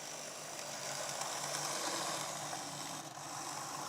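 A Hornby Javelin model train runs along the track on replacement wheels without traction tyres, its wheels skidding slightly, making a steady, faint, even mechanical whirr with no breaks.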